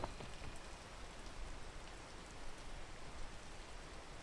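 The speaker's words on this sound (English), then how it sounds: "There's too much rain happening here." Steady rain falls in a dense, even hiss of drops on a surface, soft and continuous throughout without pauses, and no one speaks.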